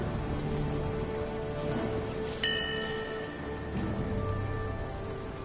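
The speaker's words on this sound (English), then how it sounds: "Hope this rain lets up soon." Steady rain falls in the video game Fallout 4, a dense continuous hiss of drops on surfaces that stays even throughout, with a brief bright tone rising once above it midway.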